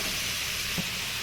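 Potatoes and capsicum frying in oil, a steady soft sizzling hiss throughout with no voices over it.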